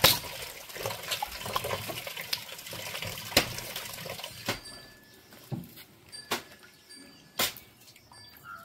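Chopped shevali wild greens washed in water, with splashing and sloshing swirls followed by separate drips and small pours, fairly close and moderately loud.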